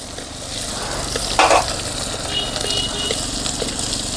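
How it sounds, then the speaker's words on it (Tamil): Fenugreek and mustard seeds spluttering in hot oil for a herbal rasam, a loud continuous sizzle with a sharper crackling burst partway through and a faint voice in the background. "வெந்தயமும் கடுகு நல்லா பொரியணும்"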